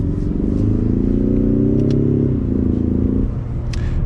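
A 2021 Ford Mustang EcoBoost on a test drive, its engine droning steadily with road noise. The pitch climbs, then dips as the paddle shifter moves it into second gear, and the steady drive goes on.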